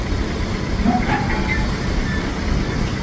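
A steam locomotive creeps at walking pace across a railway turntable on a heritage line at Quorn & Woodhouse, giving a steady low rumble with soft hissing and faint metallic clanks, continuous and moderately close.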